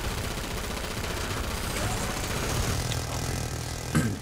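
Rapid gunfire from an SWAT weapon in the video game Killing Floor 2 sounds as a dense, continuous crackling stream of shots at moderate loudness, ending with a sharper burst.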